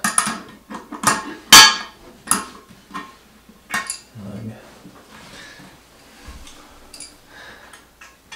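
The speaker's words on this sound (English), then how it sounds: "And these are just gonna snug. We're not gonna like wrench them down. Even though I'm using a wrench." Metal wrench snugging the bolts at the base of a toilet during a bathroom upgrade, producing sharp intermittent clicks and clinks close by, with a person talking between them.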